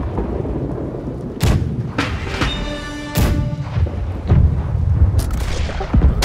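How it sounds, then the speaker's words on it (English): Ship cannons fire in the naval video game Blackwake, with several heavy booming blasts spaced irregularly over a rumbling, noisy background and no one talking. "I've prepared the cannon to fire."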